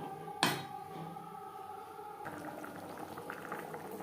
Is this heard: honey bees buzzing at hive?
no